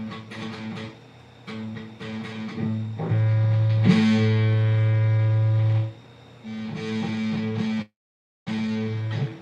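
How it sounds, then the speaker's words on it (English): Electric guitar played through heavy distortion: chugging chords, then a long sustained buzzing note before the playing resumes, close and loud. "I'm going to try putting on some distortion and we'll see what happens"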